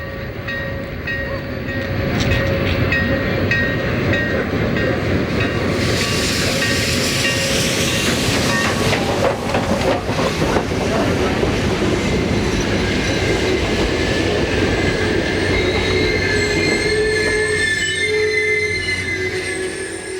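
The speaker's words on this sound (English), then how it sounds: "the train pulls into the Maysville, Kentucky Amtrak station" A long Amtrak train rolls into the Maysville, Kentucky station around dusk, a loud steady rumble of rail cars with wheel squeal and metallic screeching rising midway and persisting as it slows.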